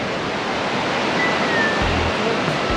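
River water rushing steadily past at close range, a continuous broadband roar with no voices, a brief low thump near the end.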